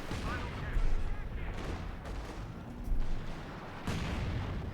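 M8 Scott artillery bombardment in Company of Heroes 2: heavy booming shell fire and rolling gunfire bursts, several loud impacts in quick succession under a commentator's voice.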